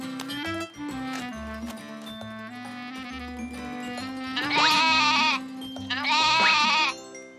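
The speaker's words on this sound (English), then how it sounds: "What's the matter, goat?" A cartoon goat gives two loud, drawn-out bleats over a bright musical score, each lasting about a second, in an autumn farm scene with no grass.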